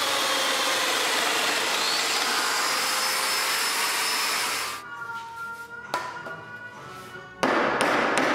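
A domino joiner whines loudly and steadily as it cuts mortises in cherry and walnut furniture frames, then winds down into quieter handling clatter and bumps before starting up again near the end.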